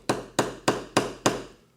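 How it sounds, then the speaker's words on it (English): Five sharp, evenly spaced taps ring out as a tack hammer strikes a rivet cap set on a leather key fob, each hit crisp and close with a short decay. "We'll put the cap on here and tap it with a tack hammer"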